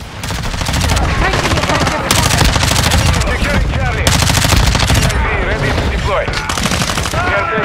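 Dense, nonstop automatic gunfire from the Call of Duty Shipment map: rapid overlapping bursts and single shots stay loud throughout, with brief game voice chatter underneath.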